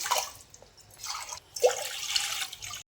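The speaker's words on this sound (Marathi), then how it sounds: "त्याच्यातच मी आता 4 ग्लास पाणी हे गरम करायला ठेवणार आहे." Water poured into a pressure cooker sitting on a gas stove in a home kitchen, a splashing, trickling pour in two bursts with a short pause, close and moderately loud, ending abruptly.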